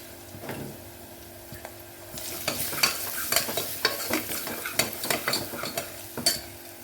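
Chayote squash and onion being sautéed in oil in a pan: a spoon stirs and scrapes with a steady sizzle of frying, and the clatter of stirring grows busier and louder partway through.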